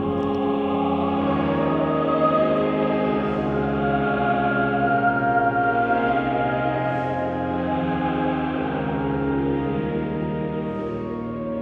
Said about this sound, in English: The choir literally washing over the screen and the organ case.